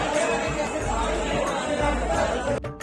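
Pilgrims on the Vaishno Devi yatra form a dense, close crowd of chattering voices, a steady loud babble with no pauses throughout.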